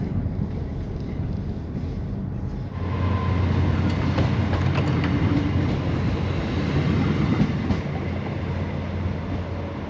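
A South Devon Railway train departs with a steady low rumble and rolling clatter, rising in level after a few seconds and holding close and continuous, with faint wind noise across the microphone.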